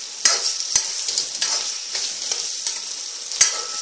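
Diced potatoes frying in a pan over medium heat, stirred with a utensil: a steady close sizzle broken by several sharp scrapes and clacks of stirring, with no talking.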